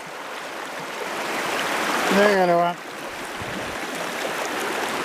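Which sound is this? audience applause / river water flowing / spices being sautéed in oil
river water flowing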